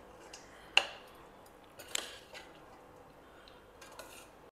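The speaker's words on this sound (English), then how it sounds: "add in this tempering to it and mix it all well together" A spoon scrapes and clinks against a pan while mango rice is mixed with a tempering, giving a few sharp metallic knocks and softer stirring rustles spread over several seconds in a quiet kitchen.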